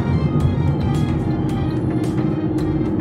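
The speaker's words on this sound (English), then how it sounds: "this car is basically a no-frills car. It's a two-door, four-seater hatchback." Inside a small two-door, four-seater BlueSG hatchback while it drives: a steady, close low engine and road rumble with a faint higher whine, continuous and with no talking.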